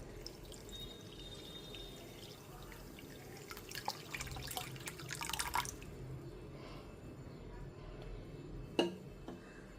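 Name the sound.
water being poured onto raw mango pieces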